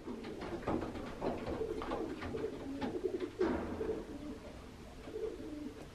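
A racing pigeon cock coos inside a box, giving soft, low, repeated throaty coos at close range with faint background noise.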